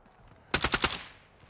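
A short burst of rapid automatic gunfire in Call of Duty Modern Warfare II at the Shoothouse map, about four loud cracking shots fired in quick succession, then a fading tail.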